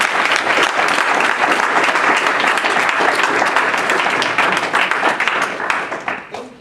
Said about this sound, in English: So if everyone would give her a big round of applause.